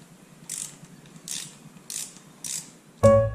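A ratchet wrench loosens the clutch cover bolts on a motorcycle, four close, crisp bursts of ratcheting clicks spaced about half a second apart, followed by a sudden louder tonal clank at the end.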